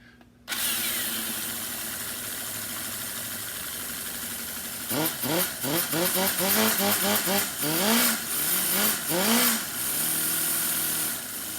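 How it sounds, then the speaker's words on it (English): A small Cison 175 nitro engine running on 10% nitro fuel with a steady buzzing drone, then revs up and down in repeated bursts of rising whine, close and loud. "So, we're going to fire it up right now"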